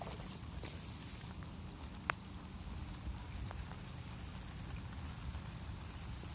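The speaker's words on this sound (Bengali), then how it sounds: "বৃষ্টি পড়তেছে, এখন বৃষ্টির মধ্যে আমরা আছি।" Steady rain falls across a waterlogged bottle gourd field where floodwater stands level with the plants, a dense, continuous hiss of drops hitting water and leaves, with one brief sharper tap partway through.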